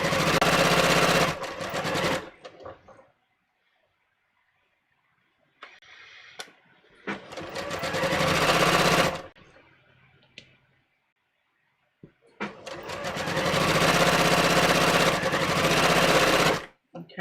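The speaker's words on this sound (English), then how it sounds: "now I'm going to just sew this." A home sewing machine stitches a half-inch seam on a sleeve in three long, loud bursts separated by quiet pauses, with faint clicks and handling noises in between.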